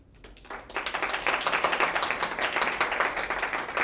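An audience bursts into steady, dense applause after a poem reading at a Smithsonian fellows showcase, rising quickly and holding at an even level with many overlapping claps.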